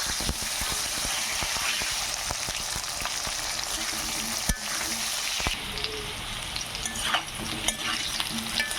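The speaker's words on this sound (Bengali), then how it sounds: "পুঁই ডাটাগুলো দিয়ে দেবো পুঁই ডাটাগুলো ভেজে নেবো" Malabar spinach stems being fried in a pan give a continuous sizzle of hot oil, broken by sharp clicks and scrapes of stirring, fairly quiet and close with no talk.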